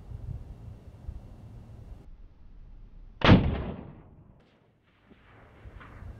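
A single sharp rifle shot rings out outdoors from an SKS, with wind in the background and a short fading echo afterward.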